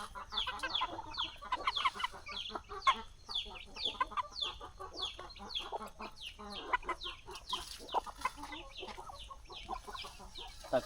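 Native country chickens on a hen farm cluck continuously in a busy flock, with overlapping calls near and far at moderate loudness and no clear pauses.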